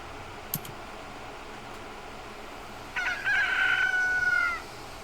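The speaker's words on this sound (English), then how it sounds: "Ah, the sound of a rooster." A rooster crows once in the Fate/Samurai Remnant video game, a drawn-out call rising over a quiet ambient hum and following a faint click.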